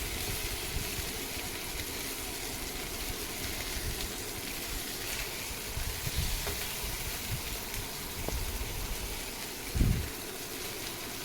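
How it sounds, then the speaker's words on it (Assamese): Fish pieces frying in a little oil in a home kitchen pan, a faint, steady sizzle and crackle with a few small pops, no voices. "মাছ কেইপিচ তেলত যেনেকৈ আমি ফ্ৰাই কৰোঁ ৰঙচুৱাকৈ"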